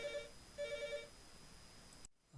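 A telephone rings in a lecture room with two short electronic trill bursts, moderately loud and close, then the sound cuts off abruptly.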